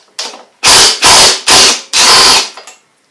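A tool spins off the flywheel bolt on a Tecumseh engine from a Toro Recycler mower: a faint lead-in, then four loud, close mechanical bursts with short gaps between them, then a brief tail.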